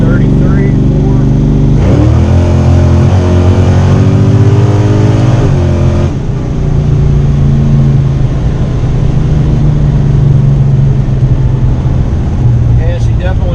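A Mopar small-block car with Trick Flow 190 heads and drag radials pulls hard in second gear, its engine loud and close, rising in pitch as it accelerates, dipping briefly at a shift, then droning on steadily.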